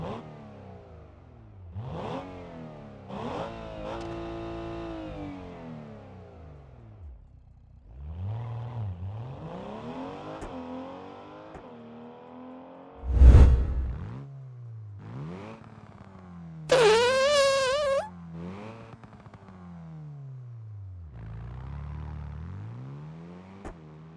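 A paid car mod in the BeamNG driving game revs its engine in repeated bursts, each rising and falling in pitch, with one loud sharp spike and a brief high whine mid-way, heard alone without talk.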